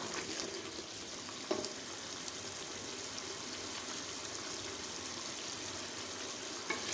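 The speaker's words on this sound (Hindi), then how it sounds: "तो यहाँ पे आप देख सकते हैं मसाला हमारा काफ़ी हद तक भुन गया है।" Masala for chicken pulao fries in a pot with a soft, continuous sizzle, faint and even throughout, broken by one small clink or stir early on.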